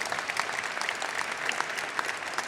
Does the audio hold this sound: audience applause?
yes